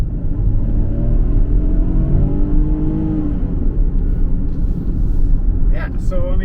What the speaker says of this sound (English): We're just going to test a little bit of acceleration, so I'm going to floor it.